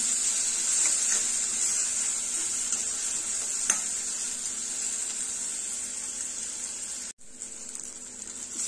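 Tomatoes sizzle in a hot pan while being stirred, a steady bright frying hiss with occasional scraping clicks and a brief dropout near the end, no speech.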